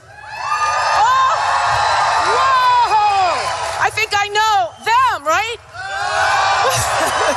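A rowdy crowd at a Trump rally in Sioux City, Iowa, cheering and whooping loudly, with high rising whoops and shrieks layered over a steady roar. A few words are spoken near the end.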